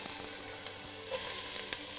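A small amount of oil sizzles in a soup pot while solyanka is being made, a steady close crackling fry with faint stirring.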